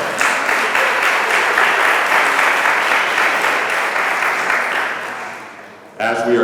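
Town hall audience in Winston-Salem, North Carolina breaks into loud, sustained applause that fades out near the end, after which a voice starts speaking.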